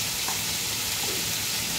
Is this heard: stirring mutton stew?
yes